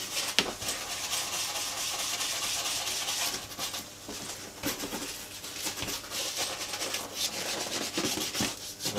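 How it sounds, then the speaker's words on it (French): Steady brushing on smooth vegetable-tanned leather boots, worked into creases, recesses and seams; a continuous close scrubbing rasp with quick stroke bursts, heard alone. "Et la brosse permet de passer bien dans les creux, dans toutes les parties où il y a des retraits, des coutures et autres"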